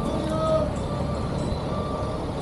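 At a busy Guatemalan bus station, old former US school buses idle with a steady low engine rumble, while a truck's reversing beeps and other traffic sound nearby.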